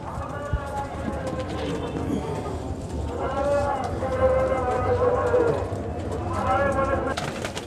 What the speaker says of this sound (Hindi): ये इंडियन कबूतरी है